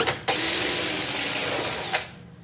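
A power drill drives threaded screws into the cabinet of a used Peavey speaker, giving one sustained whirring run of about two seconds with a sharp start and stop, close and alone.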